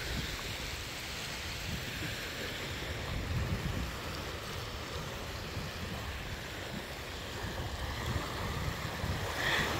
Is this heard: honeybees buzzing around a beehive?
no